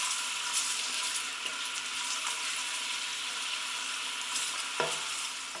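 Onions fry in olive oil in a pan, a steady bright sizzle that runs unbroken, with occasional stirring scrapes and a sharper clack of a utensil near the end.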